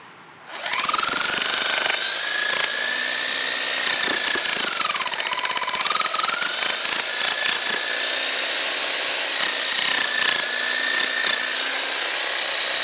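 Demolition hammer chiselling with a 3/4 inch flat chisel: loud, close, continuous rapid hammering that starts abruptly and holds steady throughout, with a whining pitch that drifts up and down and no talking.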